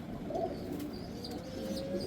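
Pigeon chicks coo softly inside a cage, low murmuring calls that carry on steadily throughout with a few faint chirps over them.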